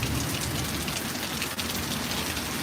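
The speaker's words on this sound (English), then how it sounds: "it's a lot of rain." Heavy, steady rain pours down during a severe storm in a dense, unbroken hiss, close and loud throughout.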